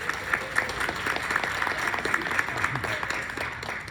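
Audience applause for Philip Garza, the marketing and recruiting person, at a teacher induction event; steady, fairly loud clapping from a room full of people, sustained for several seconds without a break.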